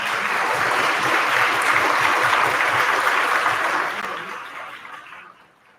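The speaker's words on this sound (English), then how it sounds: "Please give them a clap." Audience clapping for the panelists at the close of a panel discussion, a steady, moderately distant wash of applause that tapers off over the final seconds.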